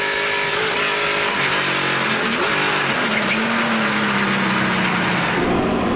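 NASCAR Pinty's Series stock cars racing nose to tail at the 2017 Ecko Unlimited 75: a loud, continuous roar of several engines, with pitch rising and falling as the cars pass, shift and brake, and no talking.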